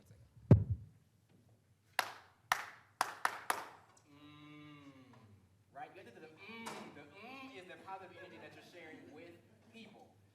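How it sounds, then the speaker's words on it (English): Claps from a group at a racial healing panel, arriving as a few sharp separate strikes, then a burst of several quick claps, with talking and a sustained voice-like tone coming before and after. "We're gonna really clap in community with each other."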